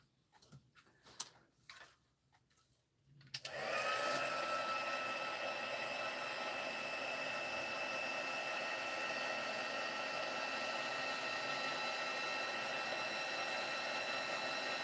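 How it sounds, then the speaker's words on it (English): A heat tool switches on after a few quiet seconds and blows steadily with a loud, even whir, drying Wink of Stella shimmer ink on a Christmas craft project. "I'm going to bring in my heat tool, and I'm just going to heat it up just a little bit so that Wink of Stella dries."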